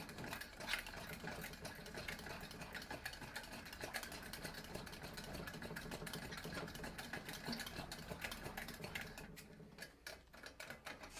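A Coleman 220F lantern fuel tank is hand-pumped from no pressure, giving a steady, rapid, faint mechanical ticking and squeaking pulse that runs on for around thirty strokes.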